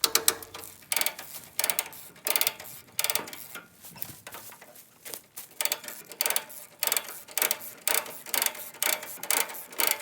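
Hand-cranked mechanical trailer winch pulling an off-road mower under heavy strain, rapid rhythmic ratcheting clicks in repeated bursts with short pauses, close and fairly loud.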